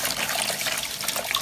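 Warm water runs and pours steadily into a container to dissolve Deox C rust-removal compound, a continuous close splashing hiss with no talking.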